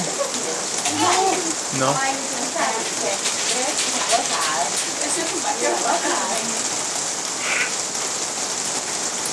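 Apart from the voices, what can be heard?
heavy rain falling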